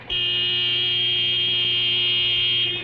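A door buzzer rings at night: one continuous, loud electric drone that holds steady for nearly three seconds, with no voices over it.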